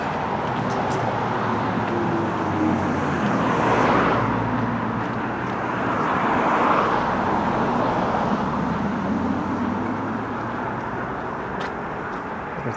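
Street traffic on a Toronto road near a bus stop, a steady wash of car engines and tire noise with vehicles swelling past close by, no voices.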